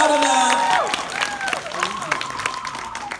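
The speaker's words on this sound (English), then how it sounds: "a rousing applause to the First Lady and Mr. Evans, so they can hear how much we appreciate them" An audience applauds at a tribute event for Ghana's former First Lady, Nana Konadu Agyeman-Rawlings. Loud clapping fills the room beneath tonal music or voices, then eases off.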